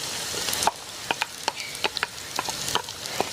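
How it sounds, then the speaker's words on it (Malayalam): Thinly sliced shallots sautéing in hot oil with green chili and curry leaves, a steady soft sizzle punctuated by light clinks and scrapes of a spoon stirring the pan. "ചുവന്നുള്ളി ഒന്ന് നമുക്ക് വഴറ്റിയെടുക്കണം കേട്ടോ"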